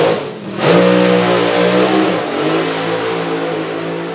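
Rod Harrison's drag racing dragster roars loudly at full throttle through a run, a sustained, powerful engine note with strong harmonics that holds steady and shifts slightly in pitch, with no voices.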